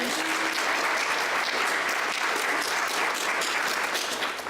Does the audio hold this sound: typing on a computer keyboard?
no